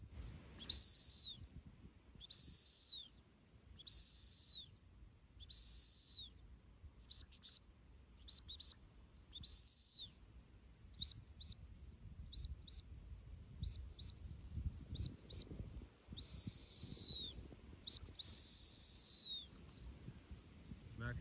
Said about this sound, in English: we're going to do some more whistling now to let him know that the whistle is blown, and there's food